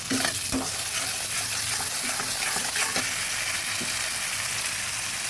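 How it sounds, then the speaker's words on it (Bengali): Spices fry in a pan for a vegetarian mixed-vegetable pachan, giving off a loud, continuous sizzle with scattered sharp stirring scrapes and taps close by, and no speech. "ভালো করে মশলাগুলো ভেজে নিচ্ছি"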